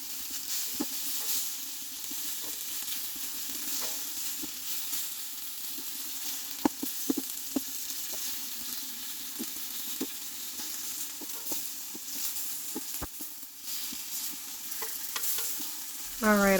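Bacon sizzling and frying in a pan while beans soak nearby, a steady soft hiss with scattered pops and a few sharp clicks, fairly quiet throughout.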